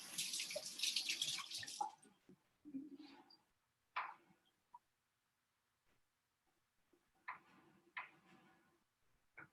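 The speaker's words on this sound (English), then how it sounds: "I'm going to rinse it, rough chop it, and throw it in as well" Chopped rosemary rinsed under a kitchen tap, a close steady rush of running water for about two seconds, then scattered faint clinks, taps and short splashes separated by near silence.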